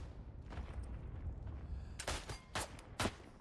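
Gunfire from a video game: three sharp, loud shots in quick succession over a steady bed of in-game background noise.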